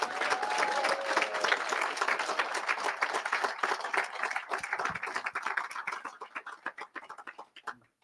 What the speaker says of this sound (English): Can we get a round of applause for John and his team?